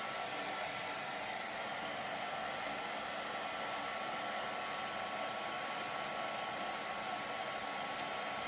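A hair dryer blows steadily on a craft piece, a loud continuous airy roar close by with an even tone from start to finish and no voices.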